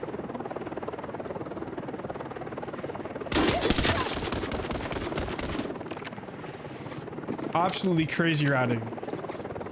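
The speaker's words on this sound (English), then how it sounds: "team can be heard taking the helicopter extract outside" A helicopter rotor drones steadily in Arena Breakout: Infinite, the team's extraction chopper, joined midway by a loud burst of rapid gunfire and later another close clatter, while a player talks over it.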